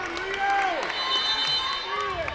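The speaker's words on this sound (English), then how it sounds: "There you hear the crowd getting into it." Crowd at a Rio Hondo versus El Camino college game raising its voice with rising, shouted cheers and chants over steady background noise, with voices overlapping throughout.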